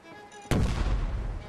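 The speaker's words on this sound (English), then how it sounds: "looks like somebody found my frag mine" A frag mine detonating in Fallout 4 near an elevated freeway: a single sudden loud blast that rolls into a long, rumbling decay.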